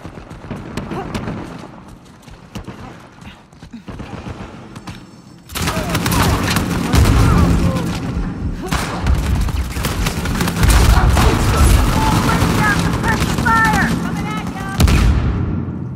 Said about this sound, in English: Should probably just follow the gunfire.